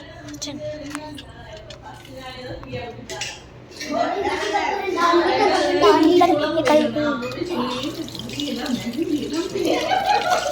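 Running water from a tap while someone washes up, a splashing, fluctuating stream that grows louder midway, with faint clinks and a person talking over it.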